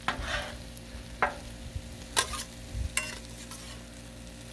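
Tortellini tossed with two spatulas on a Blackstone griddle: a faint background sizzle broken by several sharp metallic clicks and scrapes at irregular intervals, with no talking.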